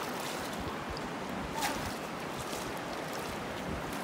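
Rushing water of river rapids on Muddy Creek surrounds a paddled boat heading downstream, a dense, steady roar up close with faint splashes, no voices.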